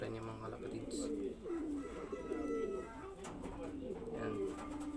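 Taiwan pigeons in a loft giving low, soft repeated coos that rise and fall, faint and close with a murmur of background noise.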